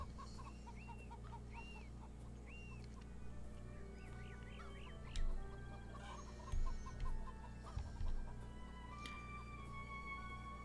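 Chickens cluck and call in a yard, several scattered clucks and short squawks at moderate distance over a steady low hum, with a few louder thumps mixed in and no speech.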